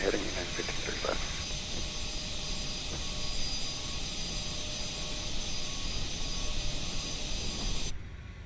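Aerosoft CRJ jet on its takeoff roll in Microsoft Flight Simulator, a loud, steady engine roar with a high whine that holds throughout and cuts off abruptly near the end, with talk underneath.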